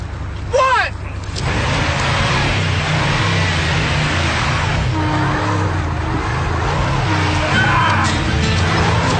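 A car engine revs hard and steadily throughout, a loud continuous mid-pitched roar with slight surges, beginning with a brief squeal-like sweep and a shout-like burst over the noise.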